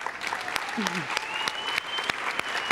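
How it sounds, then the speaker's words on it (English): Scattered clapping from an audience at a commencement ceremony rings out at an uneven pace, with a faint sustained tone and a brief voice underneath. "we are all deserving of a round of applause"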